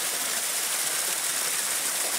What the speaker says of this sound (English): And we have some small waterfalls on both sides.